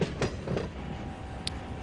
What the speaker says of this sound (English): I hear a train coming.